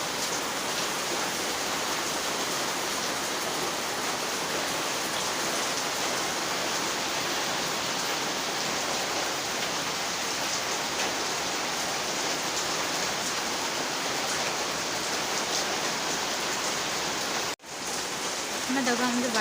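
A downpour drums hard around a home with a rain-soaked veranda, a constant, close roar of falling water that briefly cuts out near the end before resuming.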